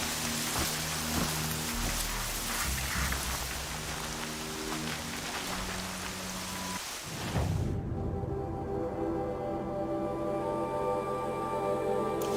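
Steady heavy rain in the video game Horizon Zero Dawn pours down as a dense, loud hiss for about seven seconds, then cuts to a quieter, thinner patter of rain under a low ambient drone.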